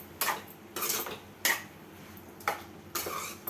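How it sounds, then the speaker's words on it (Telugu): A spoon or ladle clinks and scrapes in a pan while stirring a Telangana-style beans and tomato curry, in five distinct bursts of metallic scraping with quiet gaps between them. "టేస్ట్ తగ్గట్టు ఒకసారి కలబెట్టుకుందాం."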